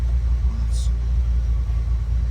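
A carbureted Jeep YJ engine idling, a low steady rumble with a rough chugging pulse throughout, heard close without other sounds standing out.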